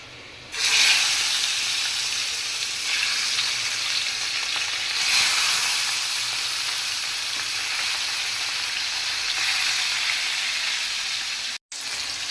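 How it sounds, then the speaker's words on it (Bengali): Fish fries in a frying pan on a stove, making a steady, bright hiss and sizzle heard close up. It swells slightly in places and drops out briefly near the end. "এই চুলায় আমি ফ্রাই প্যান বসাইলাম এখন এটার মধ্যে মাছ ভাজবো"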